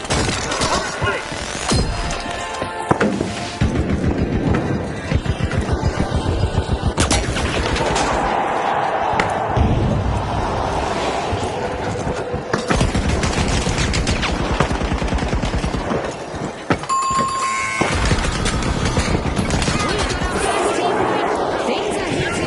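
Turret gunfire in the video game The Finals rattles in rapid automatic bursts over a busy mix of shattering, crashes and explosions, with excited talk running over much of it.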